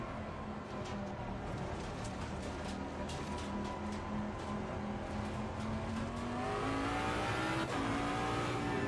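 A Ferrari race car engine in the ACC racing game drones loud and sustained at high revs, its pitch climbing steadily through the final seconds with a brief shift near the end.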